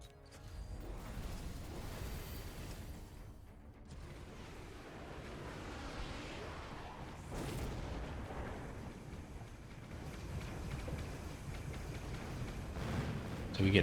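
Missile explosions in the strategy battle game Mechabellum: a dense run of booming blasts and rumbling impacts that grows louder toward the end, with a voice talking over it.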